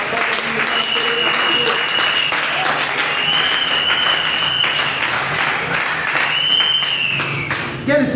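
A church congregation applauds during a sermon on the Transfiguration of Jesus, steady loud clapping filling the whole stretch with a dense wash and no break.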